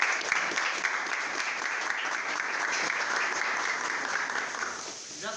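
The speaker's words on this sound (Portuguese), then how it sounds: "Palmas para o nosso convidado Luquinhas" An audience applauds a guest named Luquinhas at a São Sebastião festival gathering, a dense, steady patter of many hands lasting about five seconds before thinning out at the end.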